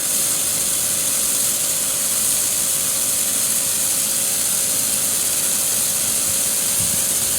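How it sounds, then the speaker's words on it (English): Compressed air injected into a running garden hose makes the sprinkler sputter and hiss in a loud, steady rush with a faint tonal whine, close and unbroken. "if you don't mind running your air compressor, you can have a noisy sprinkler"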